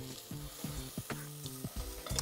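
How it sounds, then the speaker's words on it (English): Onions for a potato and chickpea curry sweat and fry in a pan with a soft, close sizzle, cut by a rhythmic series of tapping, scraping stirs of a utensil against the pan; no voices. "we're just going to cook these down and sweat these down for a couple of minutes until the onion is nice and"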